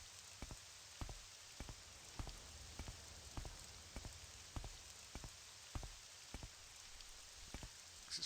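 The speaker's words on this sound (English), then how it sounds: "it's getting dark, it's raining" Rain in the video game Morrowind, a steady soft hiss of falling rain with regular louder droplet taps pattering about twice a second, faint and even throughout.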